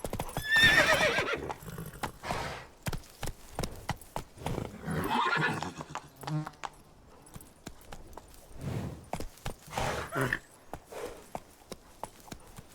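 A horse in The Witcher 3 video game gallops with loud, rapid hoofbeats throughout, broken by a whinny near the start and a longer neigh midway.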